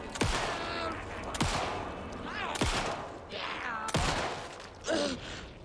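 Video game gunfire: several loud, sharp shots spaced roughly a second apart, with shorter game sounds in between.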